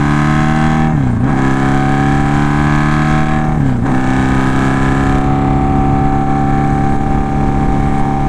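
A Honda Magna motorcycle engine runs loud and close, holding a steady roar, with its pitch dipping briefly twice before climbing back.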